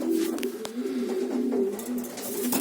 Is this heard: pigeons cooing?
yes